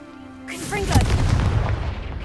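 A Confringo fire spell blasts in Hogwarts Legacy. A tonal swell leads into a loud booming burst with crackling, rumbling debris that lingers to the end.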